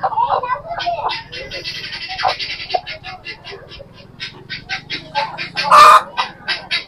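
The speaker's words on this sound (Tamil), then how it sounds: "இது எல்லாமே கோழி தாங்க." Many chickens, including an unusual-looking breed, cluck and call continuously in a poultry shed in Pudukkottai, a dense busy flock with one louder squawk near the end and a low background hum.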